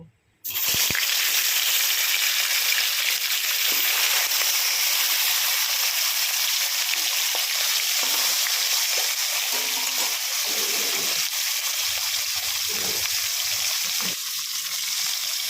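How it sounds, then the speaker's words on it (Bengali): Fish fries in a pan of oil with a loud, continuous close sizzle that begins abruptly and holds steady for over ten seconds, with occasional stirring or shifting noises underneath. "এবার মাছ ভেজে নেব"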